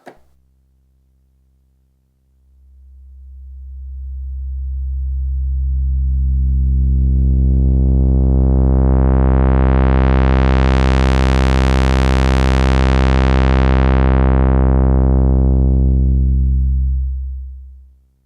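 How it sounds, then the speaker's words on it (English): A single Moog synthesizer sawtooth note rises in brightness as its filter sweeps open, then closes again, a steady buzzing tone swelling and fading alone. "Let's have it on a sawtooth on each. 32, 32. Let's just go through the"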